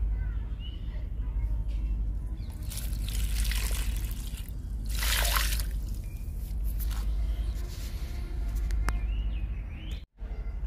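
Papaya peel liquid, soaked for two or three days, trickles and splashes steadily from a container onto a curry leaf plant outdoors, a continuous wet pouring with faint birdsong and a voice in the background.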